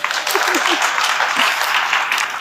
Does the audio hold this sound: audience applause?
yes